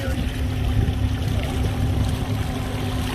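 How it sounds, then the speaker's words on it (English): A small engine, likely a generator, runs steadily aboard a boat moored in Kings Bay at Crystal River, a constant low hum with a tonal drone under faint water and wind noise, heard from a moderate distance. "Yeah, I hear something running. Generator or something?"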